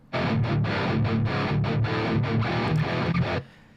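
An unprocessed, heavily distorted heavy metal electric guitar chugs out a string of loud, choppy palm-muted chords with short gaps, dry and close, ending abruptly.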